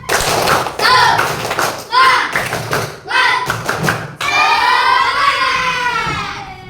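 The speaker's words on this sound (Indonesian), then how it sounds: "Tepuk semangat." A classroom doing a rhythmic spirit clap, bursts of group clapping in patterned beats mixed with children chanting together, loud and close, ending in a longer stretch of voiced chanting.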